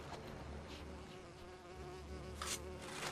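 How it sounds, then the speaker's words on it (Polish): Wasps buzzing around a hive in the LEGO Lord of the Rings video game, a faint steady insect drone under game ambience with brief hissy bursts. "Jakieś osy tu latają?"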